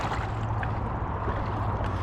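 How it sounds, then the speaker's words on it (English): An inflatable stand-up paddleboard fitted with an electric fin moves downriver, a steady close rush of water and wind with a low hum underneath. "now I'm paddling downriver with this fin in"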